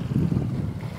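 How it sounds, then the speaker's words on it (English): A 35-foot sailing yacht beats hard upwind at just over four knots on flat water, with a steady, loud low rush of wind buffeting the microphone throughout. "we are making up wind on the Viko now"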